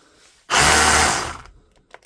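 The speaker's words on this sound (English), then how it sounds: "this Milwaukee Fuel SDS brushless rotary hammer" A Milwaukee M18 Fuel brushless cordless SDS rotary hammer with an intermittent power fault whirs loudly for about a second, then spins down and stops, followed by a faint click.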